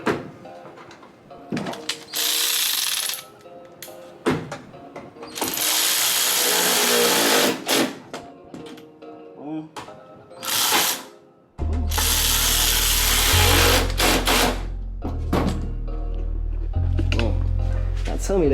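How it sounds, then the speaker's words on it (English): A power drill drives the large Torx screws back into a 2015 Ram 1500 headlight, coming in short loud whirring bursts that are close up and mixed with someone talking. "Put your Torx big screws back in."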